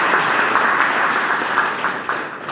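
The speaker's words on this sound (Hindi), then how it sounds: "तो इसके लिए एक ताली बननी चाहिए" Continuous applause from a live audience at a Bhojpuri film launch ceremony with Pawan Singh, a steady dense wash of many hands clapping that fades slightly toward the end.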